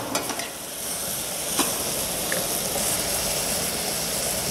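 Tomatoes with salt sautéing in a pan for a cream of tomato soup, giving a steady, fairly loud sizzle with a few sharp stirring clicks near the start.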